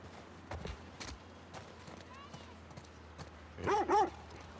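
An elderly dog in a small snowy town in The Last of Us Part II gives a couple of quick, clear barks after soft footsteps and faint ambient sounds.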